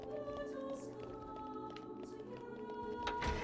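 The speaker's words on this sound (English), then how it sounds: "Oh, it's just this door opening." A door opening in Xenoblade Chronicles 2, a soft mechanical sliding sound that rises near the end over steady layered game music, with no voices.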